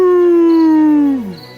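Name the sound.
wolf howling at the moon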